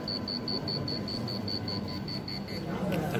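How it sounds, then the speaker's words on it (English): An Arduino alarm buzzer triggered by switching on a light gives a rapid train of about a dozen short, high, evenly spaced beeps over steady background hiss, stopping near the end. "When I switch on the light here, you can see that the alarm is activated."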